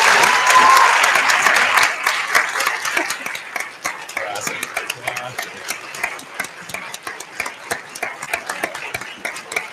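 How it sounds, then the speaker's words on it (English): Loud, sustained applause from a seated audience at a veterinary white coat ceremony, dense clapping at first that thins into scattered individual claps. "give a round of applause to those who deserve it most"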